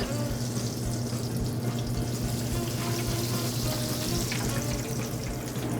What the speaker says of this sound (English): As it's frying